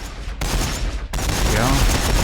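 Dense gunfire in the Warhammer Battlesector strategy game, loud rapid volleys in sharp bursts that cut off and restart, with a faint voice low in the mix.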